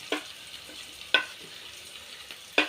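Chili powder hits a pan of sizzling chicken curry, giving three short, sharp sizzling bursts spaced about a second apart over a quiet low background, up close.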